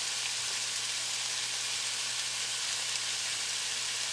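Brussels sprouts sizzle steadily in a hot pan, a dense, even frying hiss close up with no talking.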